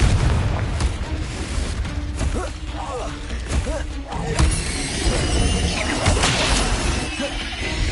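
Confringo blasting curse in the video game Hogwarts Legacy, loud booming explosions and crashing debris amid dense combat noise, spell effects and clatter, with a voice calling out spells over the din.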